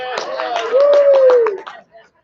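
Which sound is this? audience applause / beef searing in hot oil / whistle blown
audience applause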